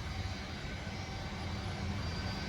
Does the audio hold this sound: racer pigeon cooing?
no